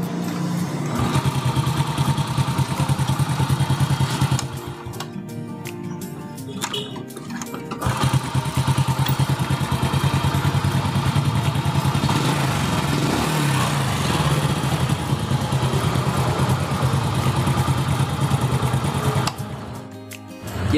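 A Honda Astrea Grand motorcycle engine idles after carburetor air-screw tuning, a loud, close, steady putter with a brief dip partway through and a short drop near the end.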